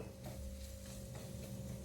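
Spice powders, including masala and cumin powder, frying in a pan while being stirred, a faint continuous sizzle with soft scraping strokes and no talk.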